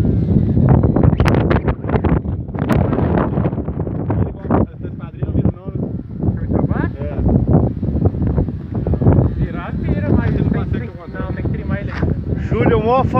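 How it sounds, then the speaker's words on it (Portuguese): Strong wind blows across an outdoor model airplane field, a loud, constant buffeting roar on the microphone that lasts throughout, with someone talking over it. "Ventando pra caramba aqui."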